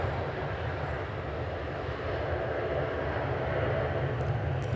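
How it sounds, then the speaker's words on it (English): Boeing Dreamliner airliner departing along the runway at DFW, a steady distant jet engine roar, broad and rumbling, holding level throughout with no talk. "I believe we've got the Miami-bound Dreamliner headed out now"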